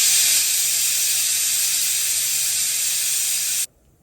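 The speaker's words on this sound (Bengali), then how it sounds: "ব্যাস দুটো সিটি হয়ে গেল, গ্যাসের ফ্লেম বন্ধ করে দিলাম, স্টিমটা রিলিজ হয়ে গেলে আমাদের চিকেনের ঝোল কিন্তু রেডি।" A pressure cooker vents a steady, loud hiss of steam after its whistles while chicken curry cooks on a gas stove, continuous for several seconds and then cutting off abruptly into near silence.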